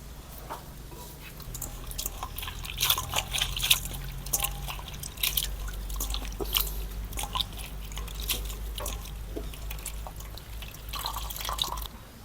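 Water is poured into a pot while making Isaan-style bamboo shoot curry with crickets, giving a close, wet stream of drips, splashes and squelches that swells and fades unevenly over several seconds.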